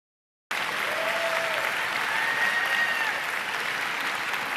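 Steady audience applause at a university speaking event, starting abruptly after a brief silence and holding at an even, dense level throughout, with faint tonal traces riding over the clapping.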